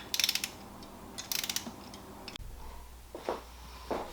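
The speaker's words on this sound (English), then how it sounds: "I'm going to tighten or torque them all down to 14 foot-pound of torque" A torque wrench tightens spark plugs on a 2016+ Mazda Miata engine. Two short bursts of close, sharp ratcheting clicks are followed by a dull knock and softer shuffling handling sounds.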